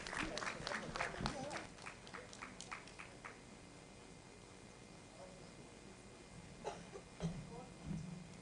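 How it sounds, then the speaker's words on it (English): An audience at a women's economic forum conference claps as a speaker walks to the stage: a burst of brisk hand claps that thins out after a few seconds into quiet room noise, with a few more scattered claps and murmurs near the end. "Please clap for her as she comes to the stage."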